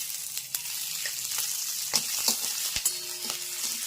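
Green peas and green chilies sauté in a pan with a steady sizzle, broken by intermittent scrapes and taps as they are stirred. No one speaks.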